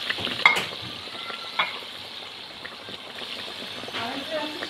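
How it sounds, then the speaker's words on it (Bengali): Fried eggplant pieces go into a pot of simmering gravy, giving a steady close sizzle and bubbling hiss with a few soft knocks and stirring scrapes, loud and continuous throughout. "এবার ভেজে রাখা বেগুনগুলো দিয়ে দেবো।"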